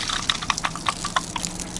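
Water trickling and dripping into an RV water filter housing as it fills and purges air, heard up close as a run of small, irregular splashes and gurgles.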